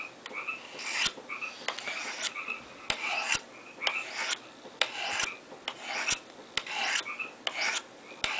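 A knife blade is drawn repeatedly across a medium-grit ceramic stone on a Spyderco Sharpmaker, giving a steady series of close, dry rasping strokes at a regular rhythm, with no talking.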